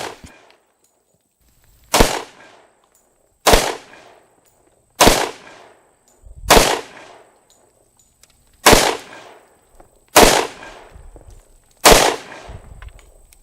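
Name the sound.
Colt Delta Elite 10mm pistol gunshots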